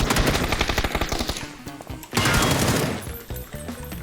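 Rapid bursts of automatic gunfire in a video game rattle loudly, pausing briefly before another sustained volley, with sharp cracks and echoing decay.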